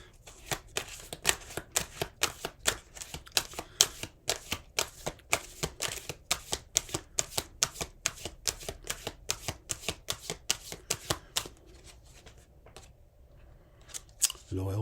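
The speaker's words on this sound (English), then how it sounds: "Let's get one more card on this," Tarot cards being shuffled in a long, fast, steady run of crisp riffling slaps, close and fairly loud, tapering off near the end.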